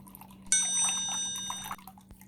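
Blended carrot and water poured through a filter in a kitchen, a short liquid splash and trickle of about a second, with a faint ringing tone over it and low steady hum beneath.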